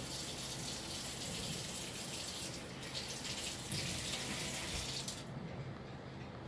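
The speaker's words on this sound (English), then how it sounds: "when you let the water run in between the shell and the egg" Kitchen tap water runs over boiled eggs as they are peeled, a soft, close, continuous gush that shifts and thins near the end. No one speaks.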